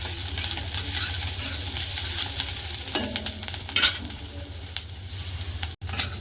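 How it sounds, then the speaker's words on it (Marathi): Chopped onions fry and sizzle in a pan for a chicken sukka and rassa, with a spatula stirring and scraping them in steady strokes beneath a constant close hiss and no talking. "चांगला म्हणजे लालसर भाजला पाहिजे कांदा"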